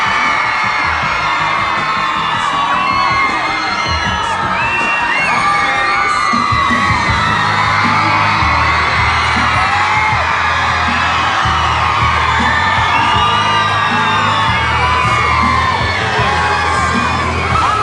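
A studio audience at a music television channel's headquarters cheers, whoops and shouts in a loud, continuous wall of crowd noise to welcome a singer, sustained throughout with scattered yells rising above it.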